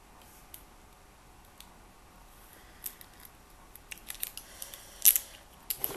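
Packaging around a Sephora lipstick is opened, giving faint scattered clicks and crinkles that grow busier and sharper toward the end over a quiet background, with no talking.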